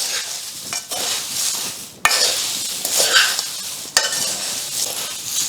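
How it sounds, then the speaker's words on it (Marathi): Fried ingredients and powdered sugar tossed together for Pune-style Laxmi Narayan chivda, a close, continuous dry rustling and crunching with a few sharp scrapes against the pan. "आता ही तळलेली आपण सगळी जिन्नस यात घालायचे आहेत आणि आता हे पण छान मिक्स करून घेऊयात"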